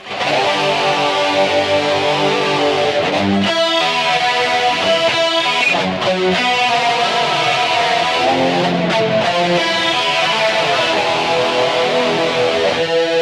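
Loud, continuous high-gain distorted electric guitar in a 1980 tone from a BOSS eBand JS-10 plays chords and riffs with brief pauses between phrases.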